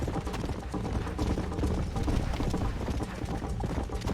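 Horse hooves clip-clop at a quick trot in the video game Red Dead Redemption, a dense rhythmic pattern of close hoof beats with game ambience behind it.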